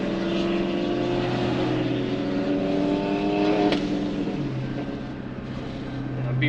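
A powerful BMW car engine roars and revs steadily, loud and close, its pitch shifting as it accelerates, with a brief sharp burst midway.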